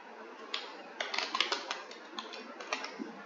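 Computer keyboard keys click in quick irregular bursts as Python code is typed, soft and close, with brief pauses between clusters of keystrokes and no voice.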